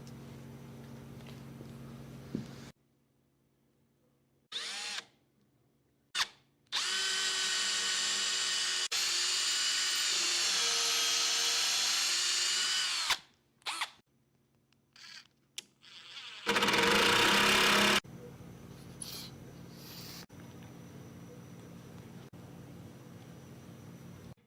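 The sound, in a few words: power drill boring screw pilot holes in wooden rocking chair rocker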